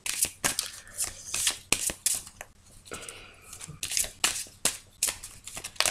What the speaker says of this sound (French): à force de battre les cartes